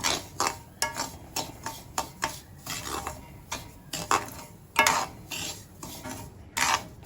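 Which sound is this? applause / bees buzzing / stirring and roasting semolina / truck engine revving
stirring and roasting semolina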